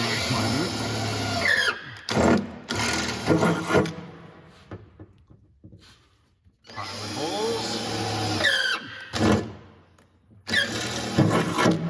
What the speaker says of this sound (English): which makes drilling into this frame a little easier